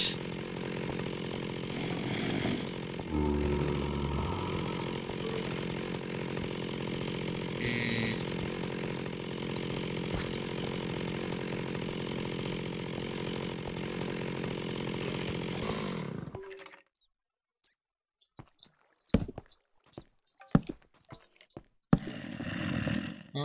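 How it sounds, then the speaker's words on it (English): A chainsaw in the Minecraft Tekkit Lite modpack roars loud and steady for about sixteen seconds, then cuts off, leaving scattered short clicks and sounds. "Let's get our chainsaw out. It's kinda noisy at times"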